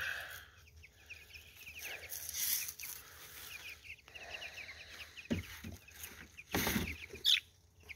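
Young chickens cluck and chirp outdoors in soft, scattered bursts, with a few louder rustles and knocks mixed among the calls.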